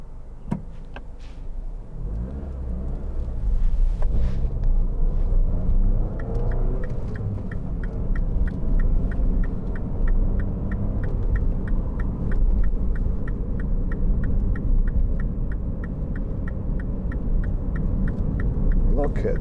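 Inside a 2009 MINI Clubman 1.6 Cooper five-door on the move, a steady low engine and road rumble fills the cabin, joined by an even, regular ticking like a turn signal.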